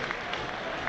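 Football stadium crowd at Watford v Sunderland applauding a player walking around the pitch, a brief wash of distant clapping and crowd noise under faint commentary.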